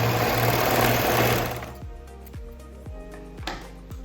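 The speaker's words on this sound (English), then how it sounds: "And then I'm going to stitch the shoulder seam." Domestic sewing machine stitching the shoulder seam of a dress, a loud steady whirring run near the mic that winds down into slow, separate mechanical thumps of single stitches.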